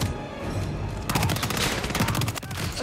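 Rapid gunfire erupts in Hitman 3, dense bursts of shots starting about a second in and continuing steadily over a noisy game background.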